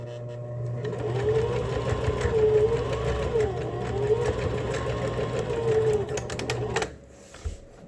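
A sewing machine runs a parallel reinforcement line of stitching on a face mask for health care workers, a steady close whirring hum for about seven seconds before it stops abruptly.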